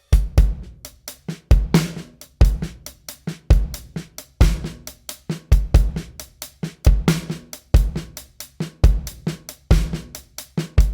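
Close, clear drum kit working through a shuffle with ghost notes added, soft snare taps filling between heavier kick and backbeat hits under a steady hi-hat pulse, no voices.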